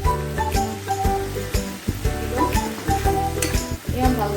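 Rui fish and pumpkin being stirred in a pan for an Assamese-style curry, a steady close sizzle with scraping spoon strokes against the metal, continuous and fairly loud with no talk.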